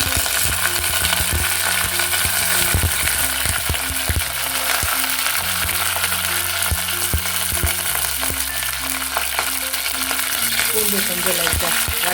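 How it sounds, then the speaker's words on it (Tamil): Garlic cloves and dried red chillies fry in hot oil, a loud, steady crackling sizzle with repeated scraping stirs and clinks of a spoon against the pan throughout. "பூண்டு கொஞ்சம் லைட்டாக வதங்கட்டும்."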